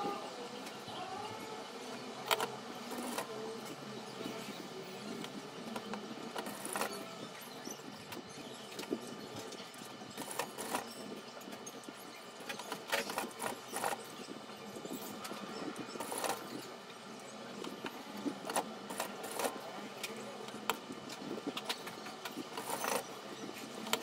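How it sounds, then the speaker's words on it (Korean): A sewing machine stitches along folded bias binding on a raglan-sleeve wrap dress, a steady mechanical whirring and ticking run with brief pauses and bursts, heard close and alone without talk. "한번 접고 다시 접어서 끝에서 스티치 놓도록 하겠습니다."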